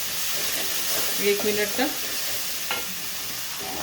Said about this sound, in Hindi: अदरक लहसुन को अच्छे से भून कर लेंगे